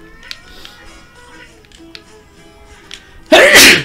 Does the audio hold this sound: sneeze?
yes